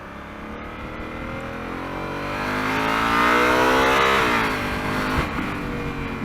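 A Honda Africa Twin motorcycle engine with an automatic transmission pulls hard under acceleration, its rising drone swelling steadily to a peak and then easing off, loud and close with no talking.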